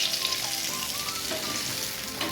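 Fish fries in hot oil, a loud, dense sizzle with crackling spits that continues steadily up close, with no voices over it.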